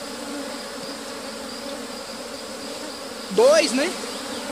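Honeybees buzzing around an old, misshapen honeycomb frame crowded with drones, a steady dense hum with a louder close pass near the end, and a short spoken phrase over it.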